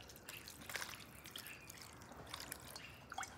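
Mop sauce poured from close by over a pulled pork sandwich on a toasted bun, making quiet, scattered wet drips and light splatters.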